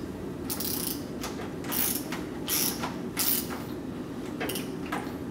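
A ratchet wrench tightening 10 mm hex nuts while connecting an end feed on a conductor rail system; several bursts of rapid clicking close by, separated by short pauses, no voices.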